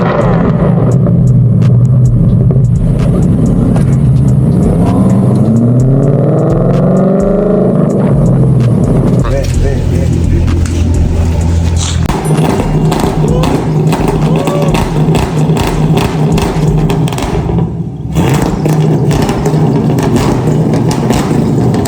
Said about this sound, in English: So when you do your first initial rev, keep it low and then bang it up to that exact spot where you had it before.